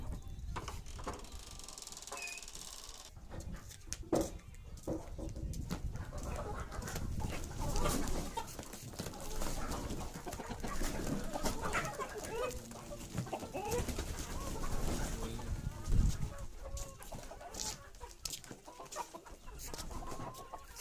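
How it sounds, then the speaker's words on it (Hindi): Village chickens being let out of their coop on a cold morning cluck and squawk continuously at moderate distance, with scattered sharper calls and rustling movement throughout. "अब मुर्गी खोलने का समय हो चुका है"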